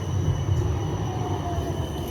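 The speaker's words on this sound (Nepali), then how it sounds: "मेट्रो भन्दा ट्राम पनि कुर्दा ठ्याक्कै ट्राम पनि आइसक्यो" A tram pulls in at a stop in Porto, a continuous low rumble of wheels on rails with faint squeal, close and loud, with no talking.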